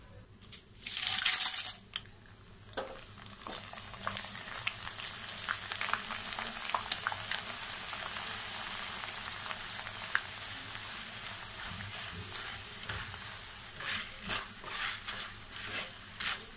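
Snack ingredients for homemade atukula mixture frying in oil, a quiet, steady sizzle and bubbling after a brief rustle at the start, with soft clinks near the end.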